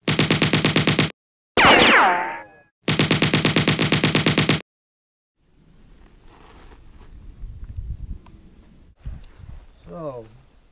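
An MP9 submachine gun fires in two rapid, loud bursts of sharp shots, broken by a short harsh crackling noise between them, then quieter handling sounds and a voice follow.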